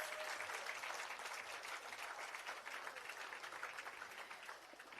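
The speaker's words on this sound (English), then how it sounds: "Una can clap them one more time, please." Outdoor crowd at a bridge opening ceremony in St Catherine clapping after a performance, a dense, sustained wash of applause that fades slightly toward the end.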